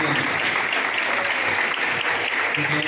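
A large audience claps steadily at a job fair held at an engineering college, a dense, even wash of applause that stays loud from start to finish without pause.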